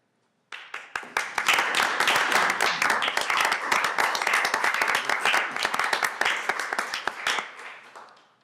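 A room of people at a Portland Development Commission meeting breaks into applause, crisp individual claps building quickly into a sustained round that tapers off at the end.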